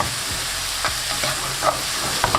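Mushrooms and fresh thyme softening in a frying pan, with a steady sizzle and brief scraping stirs and soft utensil taps, close and continuous with no voices.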